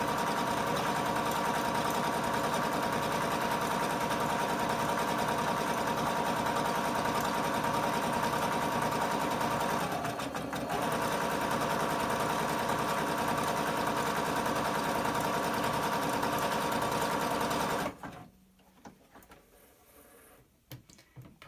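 A Butterick EB6100 sewing machine stitches with a cording foot attached, giving a close, steady mechanical whir for about eighteen seconds before it stops and near silence follows.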